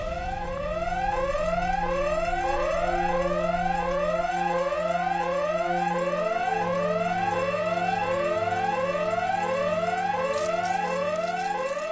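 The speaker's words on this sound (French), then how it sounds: "L'alarme incendie s'est déclenchée dans le bâtiment!" Fire alarm in a building in a cartoon, a loud repeating electronic siren of rapid rising sweeps, steady and continuous throughout with no talk.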